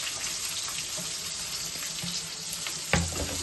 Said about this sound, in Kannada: ಫುಲ್ ಬ್ರೌನ್ ಕಲರ್ ಆಗೋವರೆಗೂ ಫ್ರೈ ಮಾಡಬೇಕು